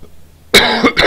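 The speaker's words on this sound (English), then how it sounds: "still have a bit of a cough" A single person coughs sharply and close up, in two or three harsh bursts after a quiet moment, with no other sound around it.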